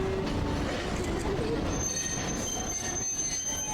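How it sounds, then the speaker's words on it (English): Monorail train wheels squeal steadily as the train switches tracks near a Tokyo shopping street, giving a continuous metallic screech over rumbling rail noise with a faint voice beneath. "they're changing tracks."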